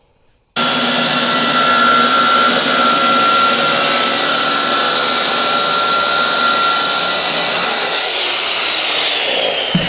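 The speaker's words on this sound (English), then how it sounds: "That way you get your saw in there nice and straight." A power saw cuts into the cabinet of a coin pusher machine, starting abruptly after a brief silence and then running loud and steady with a harsh, grinding whine throughout.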